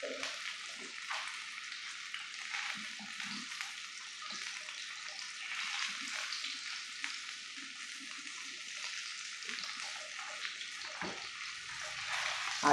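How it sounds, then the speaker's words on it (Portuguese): Mullet fish steaks frying in oil give off a continuous, even, bright hiss and crackle at moderate volume, with faint scattered clinks underneath. "Aí agora eu vou virar e fritar todas as minhas postas de peixe."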